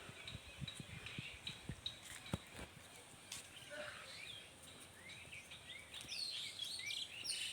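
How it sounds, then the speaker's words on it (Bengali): Songbirds chirp and sing outdoors in a breezy open spot, with high twittering calls repeating throughout over a steady windy background and a few low thumps. "সুন্দর পাখির আওয়াজ দেখো বন্ধুরা"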